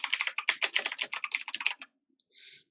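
Rapid typing on a computer keyboard produces a quick run of close, crisp key clicks for about two seconds. A few isolated taps follow after a short pause, with no talk.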